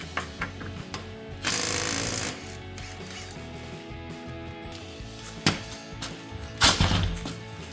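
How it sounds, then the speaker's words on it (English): A half-inch impact wrench with a 22mm socket spins lug nuts off the rear wheels of a 2009-2018 RAM 1500 truck, giving a few loud bursts of rattling hammering separated by quieter pauses and clanks in a garage. "take our 22mm socket, 1/2 inch impact, and take off the rear tires"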